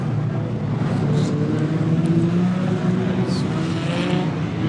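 Street stock race cars at Gympie Speedway in the Queensland title A-Main, their engines droning steadily at a distance as the pack races.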